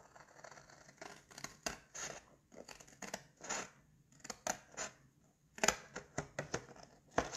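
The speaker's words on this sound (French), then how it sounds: "on va venir tout simplement commencer par découper cette partie-là" Scissors cut paper to make an Easter basket, close up and fairly quiet, giving a quick run of crisp snips in uneven bursts with short pauses between them.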